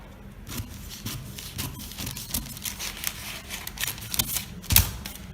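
Scissors snipping through shirt fabric along a paper pattern for a small boy's collared shirt, a series of close, crisp, irregular cuts with faint rustling between them.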